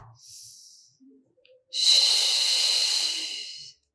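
Breathing during a Pilates stretch, a faint short breath followed by a long, strong, close exhale lasting about two seconds, breathy and hissing, then silence.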